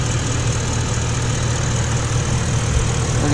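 Bentley Continental GTC with a 4.0 liter twin-turbo V8 idling, a steady, loud low rumble heard close up with even vibration throughout.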